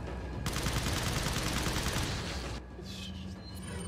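A dense burst of rapid gunfire in the video game Resident Evil 4 (Life In Hell mod) fills the first two seconds, then gives way to a lower rumble and fainter crackling shots.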